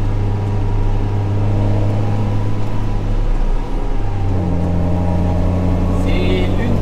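A John Deere 6080 farm tractor's engine drones steadily while driving along a road, a loud continuous low hum with a slight pitch shift midway, with no other sounds over it.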